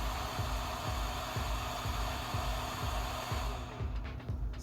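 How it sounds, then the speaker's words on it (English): Hot air blower of an 8586 SMD soldering station running, a steady close whooshing fan roar with a faint regular pulsing beneath it that eases slightly near the end. "the heater turns off, and the blower stays on"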